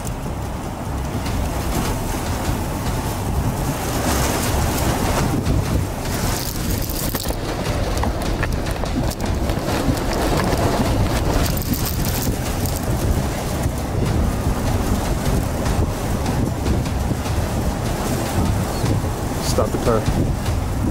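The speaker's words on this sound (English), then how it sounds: "Oh, huge tornado right there." A huge EF-4 tornado near Rolling Fork roars as a steady, loud broadband rumble for the whole stretch, heard from a car and mixed with heavy wind buffeting on the microphone and occasional voices.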